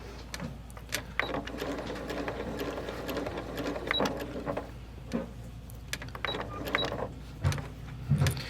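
A sewing machine stitches a quilt block slowly, one stitch at a time with pauses for pivoting, giving soft, irregular mechanical whirs and clicks close up and fairly quiet.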